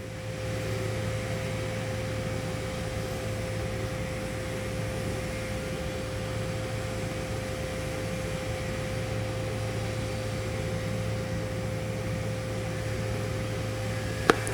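A steady, even hiss with a constant electrical hum runs unbroken from a TIG torch laying a 6G root pass on a beveled pipe joint, close and moderately quiet, ending with a faint click.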